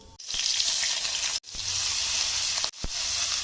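Black cumin, chopped green chilli and grated ginger fry in hot oil for a vegetable patty filling, sizzling loudly and steadily up close, with a few brief drops where stirring or movement interrupts the hiss.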